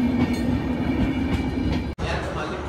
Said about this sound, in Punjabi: ਅੱਛਾ ਉਦੈਪੁਰ ਤੋਂ ਜੈਪੁਰ ਵਾਲੀ ਟ੍ਰੇਨ ਆ ਇਹ